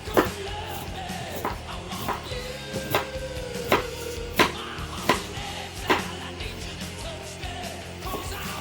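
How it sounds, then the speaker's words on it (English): Onion being chopped on a cutting board for a simple summer salad, a run of about a dozen sharp knife strikes at an uneven rhythm, close and moderately loud, with no talk. "Go ahead and chop up your onion."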